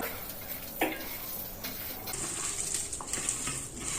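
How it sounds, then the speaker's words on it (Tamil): Mushroom pakora batter being stirred with added water in a bowl for a roadside-style mushroom masala, soft irregular mixing and sloshing strokes close up, with a few sharper utensil knocks, no talking. "இதை நல்லா மிக்ஸ் பண்ணிக்கலாம்."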